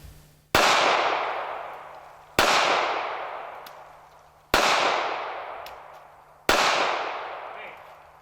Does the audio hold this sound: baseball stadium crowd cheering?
no